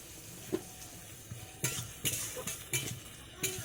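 Beef and potatoes cook on a clay stove and are stirred: soft sizzling under a series of scraping, clinking spoon strokes against the pot, fairly quiet and close.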